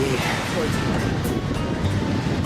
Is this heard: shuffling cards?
no